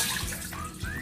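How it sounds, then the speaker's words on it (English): Water runs and splashes steadily as soaked rice cake is drained for a gochujang dish, a continuous close pouring rush with no voices. "we're gonna drain the rice cake"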